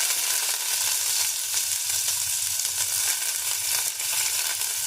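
Urad dal, mustard seeds and fenugreek splutter in hot oil, giving a steady, dense crackling sizzle with rapid tiny pops that runs close and continuous throughout.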